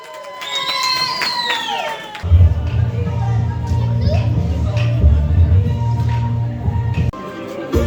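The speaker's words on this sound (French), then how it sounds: "Eh bien c'est David qui remporte le jeu du bloc, on peut l'applaudir bien fort." Wedding reception guests burst into loud, sustained cheering and applause for the winner of a block game, after a brief stretch of whistle-like tones at the start.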